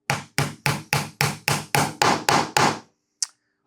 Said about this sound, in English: lightly tap it in with my hammer